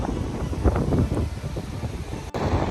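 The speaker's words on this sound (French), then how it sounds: "il y a beaucoup de vent là, on prenait plein de sable dans la gueule" Strong wind on a beach buffets the microphone with a steady, loud rushing roar and low rumbling gusts, with a brief dropout near the end.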